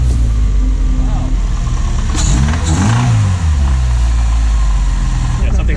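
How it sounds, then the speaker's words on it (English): A DIY Ecotec-swapped Mazda Miata's engine idles loudly up close, then is blipped in a couple of rising and falling revs with a knocking fault, while people talk over it. "Yeah, something knocking. What's that knocking?"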